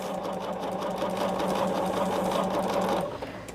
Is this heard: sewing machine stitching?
yes